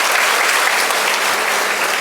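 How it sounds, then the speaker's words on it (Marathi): Loud, dense applause from an audience at a teachers' honour ceremony, continuous clapping filling the room from start to finish. "एकदा जोरदार टाळ्या होत्या."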